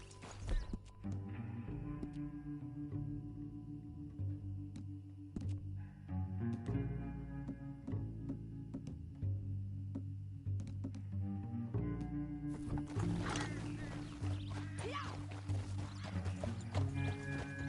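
Horse hooves clip-clop at a steady walking rhythm in Red Dead Redemption 2, close and clear over a continuous bed of game music, with a brief whinny and busier hoof activity near the end.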